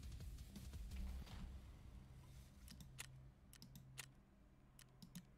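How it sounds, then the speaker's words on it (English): Faint keyboard typing on a computer during a session of Escape from Tarkov: soft, uneven key clicks in a slow, halting rhythm, with brief clusters of taps over a low background hum. "Sorry if I'm typing slow, I'm using my left hand for that."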